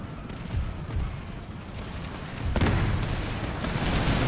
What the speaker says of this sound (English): Mortars are still doing work.